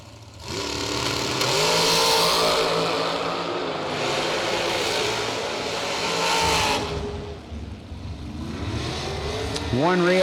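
Drag racing cars, including a Chevrolet entry, roaring loudly down the strip with sustained high engine noise that fades, then a fresh rev rising near the end.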